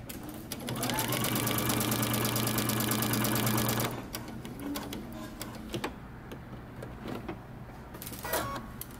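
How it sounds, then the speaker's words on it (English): A sewing machine stitches a seam on a men's fitted shirt in a fast, steady burst for a few seconds, then stops, leaving scattered clicks and handling noises. "Now let's head over to the sewing machine."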